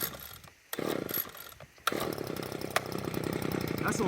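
A Proyama handheld gas leaf blower's small two-stroke engine, cold and on full choke, fires briefly, then catches and runs with a steady buzzing drone, loud and close.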